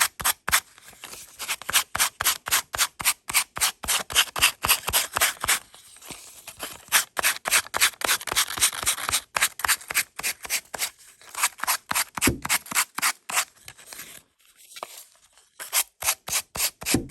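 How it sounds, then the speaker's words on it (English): Sandpaper rubs back and forth along the edges of a wooden ornament to remove excess paper, making rapid, rhythmic rasping strokes in bursts with brief pauses between them, close and fairly loud. "I'm going to use my sandpaper and remove the excess paper from the sides"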